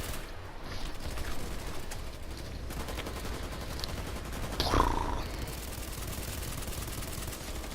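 Jackal close-quarters weapon firing in a video game, a dense steady stream of shots with one louder, sharper burst just before the five-second mark, all without talk.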